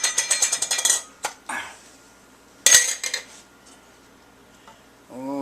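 A utensil stirs thick yogurt in a bowl, making a quick run of close clinks and taps against the dish. Sparser knocks follow, then a brief voice at the end.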